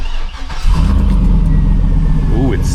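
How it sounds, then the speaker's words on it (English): Modified truck with high mileage starting up: a short crank catches into a loud, rough idle close by, while a voice speaks over it. "Starting the engine."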